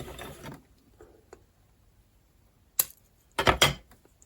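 Purple fused glass being cut into a small triangle against a fixed guide: a brief sharp scrape, then a quick cluster of crisp cracking, clicking bursts close by, with near silence in between.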